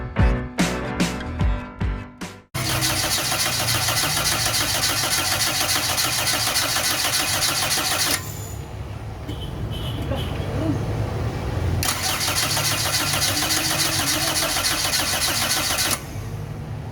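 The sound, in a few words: Toyota 4A-FE engine cranking but not starting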